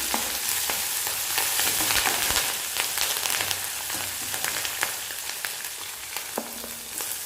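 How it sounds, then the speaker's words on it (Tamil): Onions and green chillies sauté in a pan with lentils already browning in oil, a dense continuous sizzle with frequent clicks and scrapes of stirring throughout. "பச்சை மிளகாயும் வெங்காயம் நல்லா வதங்கி வரட்டும்"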